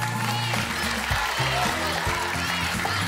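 A studio audience claps for a contestant on a festive Persian-language game show, steady applause mixed with a host's voice and background music.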